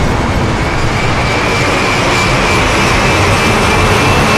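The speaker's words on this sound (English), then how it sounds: "So we went and captured lots of fast vehicles," A fast vehicle rushes past close to the microphone, a loud, steady broadband roar of engine and wind that holds throughout, captured as source material for bullet sounds.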